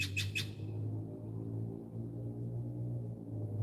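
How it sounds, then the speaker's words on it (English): A blue jay gives a quick pair of harsh squawking calls at 5 AM, loud over a steady low rumble, then only the rumble continues. "That's a blue jay."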